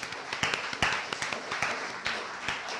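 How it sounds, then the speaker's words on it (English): Several people clap in short, irregular bursts during a lively live quiz game about Harry Potter and Star Wars characters, sharp hand-claps close by with a faint background murmur. "I just love clapping"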